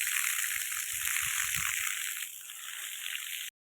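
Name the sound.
water spraying fast from a hose pipe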